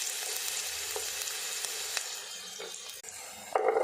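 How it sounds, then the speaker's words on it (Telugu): Onion pieces fry in oil in a kadai, a steady broadband sizzle with occasional crackles and a louder burst of spattering near the end. "కడాయి పెట్టుకొని ఆయిల్ వేసుకోవాలి. దానిపైన ఉల్లిపాయ ముక్కలు వేసుకోవాలి."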